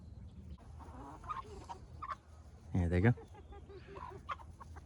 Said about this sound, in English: Chick, chick, chick, chick, chick, chick, chickens.